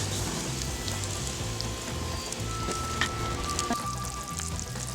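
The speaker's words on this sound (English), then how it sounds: "We're going to put this back over the flame for a minute and let those peaches really cook and start cooking." Peaches sizzle in a pan over an open flame while a bourbon peach topping is being made. The sound is a soft, continuous crackle with a low background hum and a few faint clinks.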